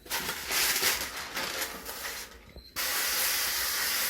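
A steady hissing spray of cooking spray onto parchment paper, loud and close, starting mid-clip and running continuously to the end, with an earlier broadband hiss before a brief pause.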